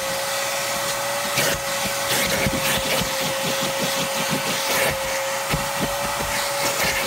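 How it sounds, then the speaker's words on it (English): A vacuum cleaner sucks at automobile carpet with a loud, steady motor whine and rough rustling bursts as the nozzle scrubs across the fibers, close and continuous. "First is a thorough vac in and around the area."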